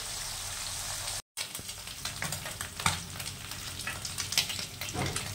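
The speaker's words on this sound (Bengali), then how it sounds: "এবার মাছটা লাল করে ভেজে নিই" Small puti fish frying in hot oil, a dense continuous sizzle with crackling pops and scraping stirs close by, briefly interrupted once near the start.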